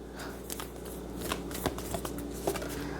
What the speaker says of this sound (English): These cards are literally the most difficult cards to shuffle, I think, out of any deck.